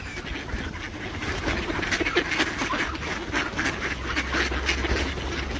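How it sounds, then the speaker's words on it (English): Ducks at a feeding spot give a run of overlapping quacks over a continuous low outdoor rumble, moderately close and fairly loud, with no one talking. "I wonder if that duck will come up."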